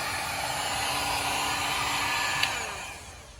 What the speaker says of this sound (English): So you just get a heat gun and just like that, get rid of them, bring the carpet back to life.